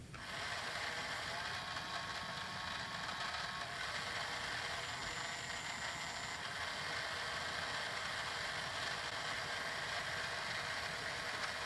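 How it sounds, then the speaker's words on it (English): A 1980 Radio Shack two-channel radio-controlled toy tank runs its drive wheels with the treads removed, giving a steady, close, whirring and ratcheting gear-motor buzz that holds constant for the whole stretch, with no talk. "the drive wheels are working correctly, and this radio-controlled tank will work once the treads are replaced"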